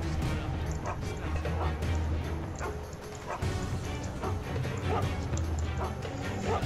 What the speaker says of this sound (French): Si l'autre putain de chien, il continue d'aboyer comme ça